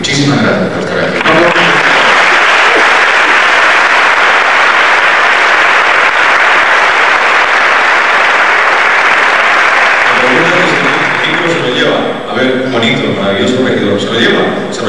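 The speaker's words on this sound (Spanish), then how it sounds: "Un aplauso para ellos." A large theatre audience at a 1994 festival applauds loudly and continuously for about ten seconds, then the clapping fades and voices take over.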